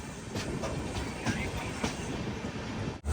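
The Goa Sampark Kranti Express, bound from Madgaon to Chandigarh, rolls by with a steady loud rumble and rhythmic clacking of wheels over rail joints.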